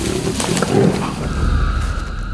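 Wild lions roaring in the African bush, a loud, deep, rumbling call that swells and then settles into a low, sustained growl, with no talk.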